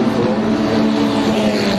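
A race car at the Simola hillclimb drives past with a steady, loud engine drone holding one pitch throughout a brief stretch.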